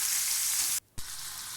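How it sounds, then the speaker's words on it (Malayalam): Fish frying in a pan gives a steady, close hiss of sizzling oil that cuts out abruptly for a moment, then returns with a soft thump and keeps crackling. "പിന്നെ മീൻ ഫ്രൈ ചെയ്യാനുണ്ടായത് എടുത്ത് ഫ്രൈ ചെയ്തുകൊണ്ടിരിക്കുകയാണ്."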